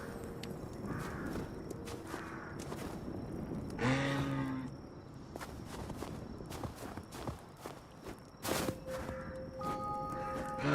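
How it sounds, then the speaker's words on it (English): Moose cow in the adventure video game Hytale, a low lowing call heard around midway, with footsteps and ambient game sounds throughout. "Moose cow."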